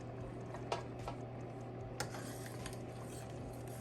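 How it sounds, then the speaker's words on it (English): Watermelon rind preserves being stirred in a pot after lemon juice goes in, quiet soft scraping with a couple of light spoon clinks against the metal over a low background hum. "Now I'm going to put my 2 tablespoons of lemon juice in there like that. And I'm going to stir it."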